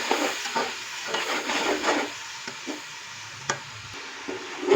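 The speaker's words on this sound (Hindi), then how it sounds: "मसाले को हम यहाँ पे अच्छे से भून लेंगे तकरीबन 3 से 4 मिनट के लिए।" Spiced masala fries in a pan while a spoon stirs it, a soft sizzle under intermittent scraping strokes and a few sharp clinks against the pan, fairly quiet and without talk.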